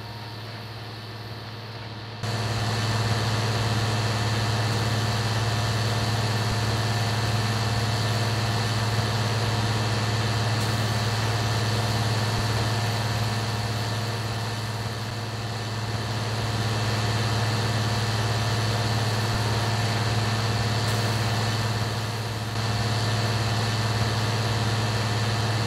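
A tractor engine runs steadily while baling in the Farming Simulator video game, a constant low drone with a brief quieter start, then a sustained hum with slight load variations throughout.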